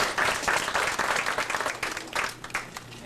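Audience applause at a public event in Red Deer, Alberta, a loud burst of many people clapping that stays strong and then tapers slightly over a few seconds.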